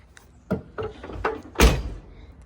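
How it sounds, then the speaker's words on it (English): Door of a 1989 Camaro RS coupe, a few light handling knocks followed by one solid, crisp closing thunk, close up. "this door shuts so crispy"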